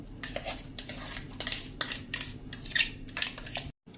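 Ground carrot pulp is scooped into a vessel with a metal spoon, giving a series of close, sharp scraping clinks and knocks against the pot in an uneven rhythm before a brief silence.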